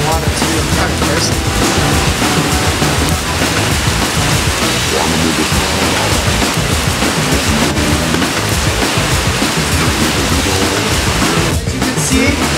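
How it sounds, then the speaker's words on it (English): Heavy rain falls steadily in Taiwan, a dense, loud, unbroken wash of noise close by that holds at the same level from start to finish. "As you can see, it is raining once again in Taiwan."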